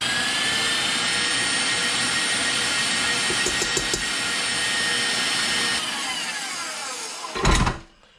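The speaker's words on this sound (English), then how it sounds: "we're going to turn the mixer as high as it'll go and go to soft peaks" An electric mixer whisks egg whites at its highest speed, a loud, steady, high-pitched whir that runs on before a brief surge and a sudden stop.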